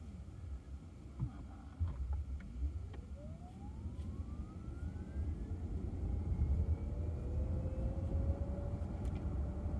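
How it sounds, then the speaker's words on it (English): Electric motor whine from a Lucid Air Pure while driving, a thin tone rising steadily in pitch over low road and tyre rumble, with a second tone climbing beneath it as the car accelerates. "That's what I was talking about with the motor noise."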